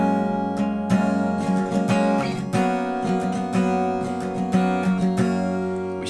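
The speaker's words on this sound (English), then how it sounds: "you could kind of imagine the guitar to maybe sound like this" Guitar playing chorus chord notes for a song in progress, sustained ringing chords with plucked notes picked out over them, steady and close with no voices.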